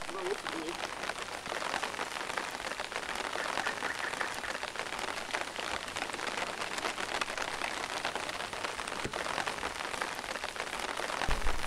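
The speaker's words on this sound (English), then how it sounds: "because it's raining" Rain falls steadily in a Nigerian pottery village, a constant dense hiss and patter on surfaces that holds for about twelve seconds, with faint voices now and then.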